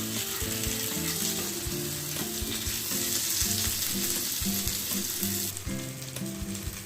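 Pomfret fish, flipped over, sizzles steadily in a hot pan as it crisps on the second side, a dense close frying hiss running throughout, with a steady low hum and a few light knocks underneath.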